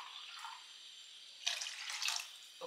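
Water poured from a vessel into simmering fish curry gravy in a home kitchen, a short splashing pour that swells midway and trails off, fairly faint and with no voices.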